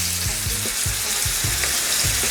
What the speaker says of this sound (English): we're just gonna brown the meat